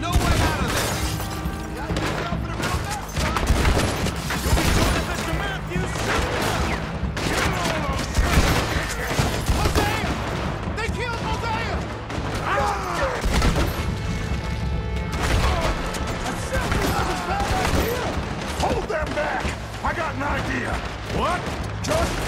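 Heavy gunfire rattles almost without pause through a Red Dead Redemption 2 shootout, with dense overlapping shots, loud and close, and voices shouting over it.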